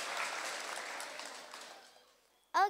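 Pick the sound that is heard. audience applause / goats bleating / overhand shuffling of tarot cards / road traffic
audience applause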